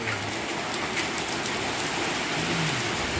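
Heavy rain pours steadily on a rainy day, a dense, constant hiss of drops striking surfaces close by with no gaps and no voices.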